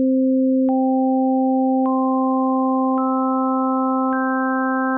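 Pure sustained tones of the harmonic series, a low fundamental held steady while overtones enter one after another at regular intervals, each adding a higher pitch to a clean, loud stacked chord.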